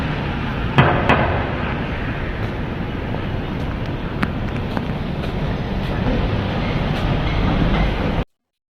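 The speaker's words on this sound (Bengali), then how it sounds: "মেট্রো রেল চলা শুরু হয়ে গেছে ভোর পাঁচটা থেকে" A metro train runs past in the early morning beside the wall of Yoyogi Park in Tokyo, a continuous rumbling roar with a few sharp metallic clanks, loud and steady until it cuts off abruptly.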